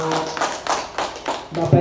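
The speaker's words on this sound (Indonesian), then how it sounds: "tepuk tangannya." Teachers and guests at a school outreach event clap in a slow, rhythmic pattern of about six evenly spaced claps, close and moderately loud.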